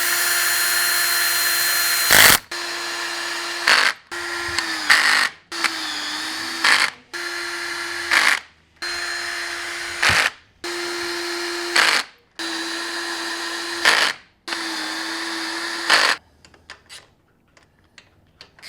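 A power tool runs fasteners into a Harley-Davidson Sportster primary cover in about nine short bursts of whining motor, each ending with a tightening drop, separated by brief pauses, close and loud.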